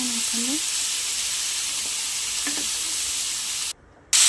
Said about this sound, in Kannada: ಬಾಣಲಿಗೆ ಎಣ್ಣೆ ಹಾಕಿ ಸ್ವಲ್ಪ ಅರಿಶಿನ ಮತ್ತು ಒಂದು ಈರುಳ್ಳಿ ಹಾಕಿ ಫ್ರೈ ಮಾಡ್ಕೊತೀನಿ